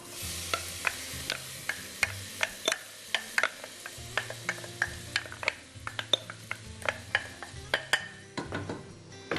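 Onion dropped into a hot pan for a beef and pistil casserole, sizzling steadily while a spoon stirs with repeated sharp scrapes and clinks against the pan, close and clear throughout.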